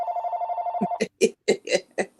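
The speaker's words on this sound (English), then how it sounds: "I got a phone call." A telephone rings with a steady electronic trill for an incoming call, then cuts off as voices start talking close by.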